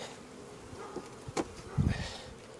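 Honey bees buzz around an open hive with a faint, close drone broken by a few louder passes as single bees fly near.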